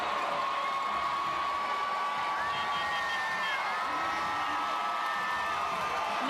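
Crowd noise from a championship victory parade for the Chiefs, a steady outdoor roar with scattered cheers and whoops, with whistle-like tones and other sounds drifting through the dense background.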